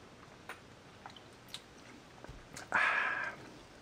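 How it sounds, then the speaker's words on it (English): Someone chews a bite of tilapia with olives and tomatoes, soft wet chewing ticks spaced about half a second apart, close and quiet, then a brief louder rustling hiss near the end. "let me take another bite here without spilling it"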